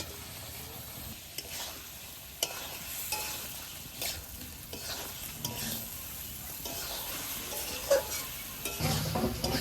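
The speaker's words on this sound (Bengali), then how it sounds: "সবকিছু ভালো করে মিশিয়ে নিয়েছি একসঙ্গে দিয়ে" Fried potatoes and jackfruit-seed paneer are stirred together in a pan, the gentle sizzle broken by repeated scraping and clinking of the spatula against the metal throughout, without talk.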